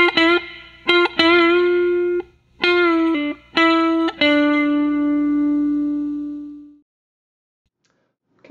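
Electric guitar plays a short phrase of picked notes with pull-offs and a half-step bend, ending on a long held note with gentle vibrato that rings out and fades to silence.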